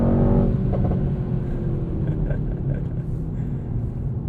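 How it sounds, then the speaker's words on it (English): A 2020 Mercedes-AMG GT 63 S under way, its exhaust note blending with engine induction into a loud, steady low rumble heard from the cabin, with faint tonal rises throughout. "There's a really nice blend of just exhaust note"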